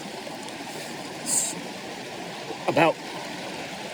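A backcountry Southern California creek flows as a steady, close wash of water under a brief spoken word and a short bright chirp.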